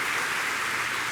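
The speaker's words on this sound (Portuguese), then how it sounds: "dá uma salva de palmas ao Senhor" A church congregation applauding together, a brief continuous wash of dense clapping at moderate level with no distinct individual claps.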